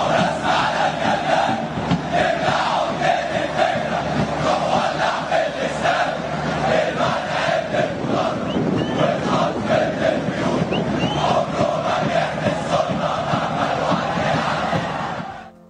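Egyptian football ultras chanting in unison, a loud, dense crowd roar that keeps up steadily for about fifteen seconds with no pauses and fades at the very end.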